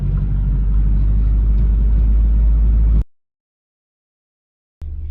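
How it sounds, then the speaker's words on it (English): A car pulls away in second gear on a test drive, its engine rumbling loud and steady for three seconds, then cutting to silence before the rumble returns briefly at the end. "All right, let's speed up. We're in 2nd gear. Let's see how loud it is."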